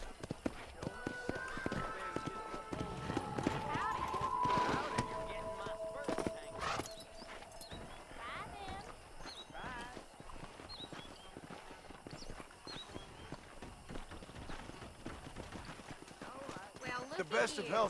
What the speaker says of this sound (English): Slow this horse down.